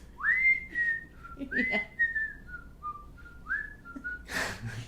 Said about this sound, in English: People love whistling. Everyone loves whistling.